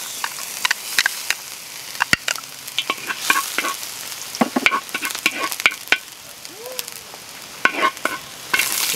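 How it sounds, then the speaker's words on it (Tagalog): Sauce for salted egg crabs frying in a hot wok, a dense crackling sizzle with sharp spattering pops and occasional stirring scrapes, close and fairly loud, no voices. "At mainit na ang ating kawa, mag-start na tayo magluto ng kanyang sauce."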